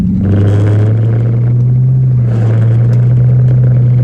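A loud Ford Thunderbird with an O2 sensor fault drives down a back road, its engine giving a heavy, steady low rumble close up that rises slightly in pitch as it eases into the throttle.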